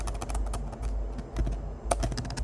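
Rapid typing on a computer keyboard while text is entered in a design program, a steady run of close, crisp key clicks with brief pauses and no speech.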